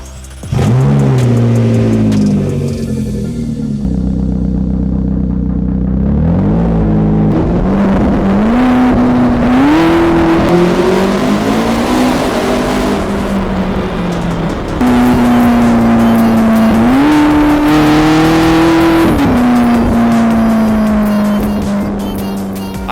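McLaren sports car driving on the road late at night, engine loud and close, revving up and settling through gear changes with rising and falling pitch over a steady road roar.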